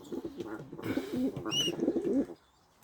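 Caged fancy pigeons coo nearby in soft, throaty, overlapping bursts that stop abruptly near the end.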